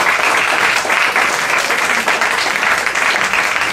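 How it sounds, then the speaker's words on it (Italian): An audience applauds at a Japan Day event, a dense, even burst of clapping sustained loudly throughout. "Facciamo un altro grande applauso a Liliana Sorrentino."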